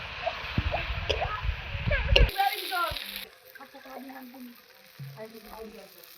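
Turmeric and ginger-garlic paste hit onions frying in a pan for an egg curry, giving a loud crackling sizzle with utensil clinks that drops to a quieter fry after a few seconds; a voice is faintly present.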